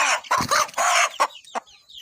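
Domestic village chickens about five to six months old, raised on a farm for sale, cluck in close, loud bursts, several quick calls followed by shorter, softer clucks.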